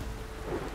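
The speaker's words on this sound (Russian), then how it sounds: "Что, дождик, да, пошел?" Rain and thunder in the open world of The Witcher 3: Wild Hunt, a steady wash of falling rain with a low rumble underneath, moderately loud and continuous for under a second with no talk.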